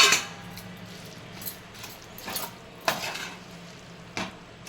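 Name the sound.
stirring boondi laddu mixture with dry fruits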